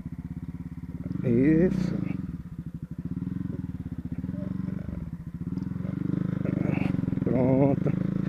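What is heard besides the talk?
Honda CB Twister motorcycle riding on dirt road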